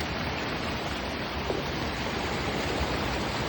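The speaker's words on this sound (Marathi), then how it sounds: "आमच्या गावाकडल्या ओढ्याला भरपूर पाऊस पडलाय त्यामुळे भरपूर प्रमाणात पाणी आलंय रोडच्या वरून पाणी चालू आहे" A rain-swollen village stream pours across a road in a steady, loud, unbroken rush of water, with no voices over it.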